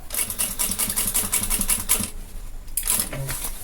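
A sewing machine stitches a seam on elastic for a bottle holder bag, a rapid even clatter of needle strokes, briefly pausing before starting again close by.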